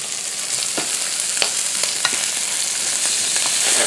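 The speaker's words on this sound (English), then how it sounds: "I'm going to fry this for 3 or 4 minutes on this side" Venison tenderloin fries in a pan with a constant close hiss and sizzle, dotted with sharp spitting crackles and pops throughout.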